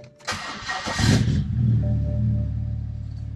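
A BMW E90 with a built engine cranks briefly and catches, the starter whirr giving way to a loud rising rev that settles into a steady, close idle.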